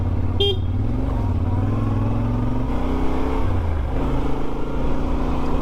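Motorcycle riding along a road on a round-the-world tour, a steady engine drone with shifting pitch as it moves, and a short horn toot near the start.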